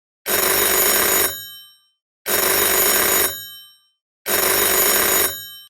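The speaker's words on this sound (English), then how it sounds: "the phone in her hand rang again" A telephone bell rings three times in an even rhythm, each burst loud and close, about a second long with a short decay, separated by silence.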